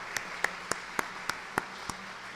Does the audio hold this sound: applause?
yes